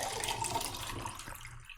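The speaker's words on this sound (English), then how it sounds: "The water is loud." Water runs steadily from a tap as a broad, even rush for the whole stretch, close by and fairly loud, easing slightly toward the end.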